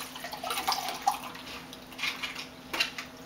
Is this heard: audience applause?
no